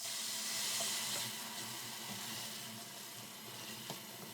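Tomato paste frying in a pan for egg keema korma gives a soft, steady sizzle and hiss, faint and close, with a few small pops.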